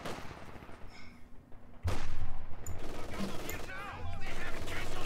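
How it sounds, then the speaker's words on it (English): Machine-gun fire in a tournament match of a World War II strategy game, dense sustained bursts under continuous battle noise, loud and steady with no voices. "MG taking shots."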